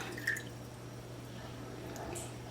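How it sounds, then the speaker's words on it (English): Alkaline water, about a cup, poured over wet rice in a bowl, a soft steady liquid trickle with a brief splash near the start, close and alone. "Now we're going to pour in about a cup of water, alkaline water, over the rice."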